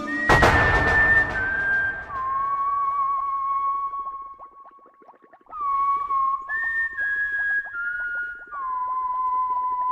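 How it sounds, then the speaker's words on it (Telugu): A man whistles a slow, steady tune of long sustained notes, clear and fairly close, following a sharp thud at the start, with a quiet room and no talking. "నువ్వెందుకు అలా విజిల్ వేస్తున్నావు?"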